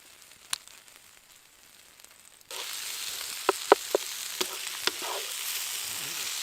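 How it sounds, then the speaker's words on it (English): Minted lamb and vegetables sizzling over a campfire outdoors: after a quiet start, a steady close frying hiss sets in with a few sharp crackles and pops scattered through it. "Minted lamb and vegetables cooked on the fire."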